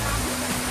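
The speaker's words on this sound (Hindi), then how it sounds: "ये देखिए जगह जगह से ये झरने बह रहे हैं वाटरफॉल में, टाइगर वाटरफॉल जो है ये देखो।" Tiger Waterfall near Chakrata pours steadily with dense, broadband rushing water that stays loud and continuous throughout, with no break or change in its roar.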